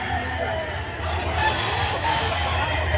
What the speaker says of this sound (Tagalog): Black hen eh.